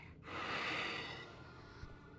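Heavy, drawn-out breathing from a creature in the Baby in Yellow horror game, a loud breathy snort-like inhale sustained for about two seconds with a soft thump near the end.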